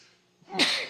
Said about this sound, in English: I feel a sneeze coming on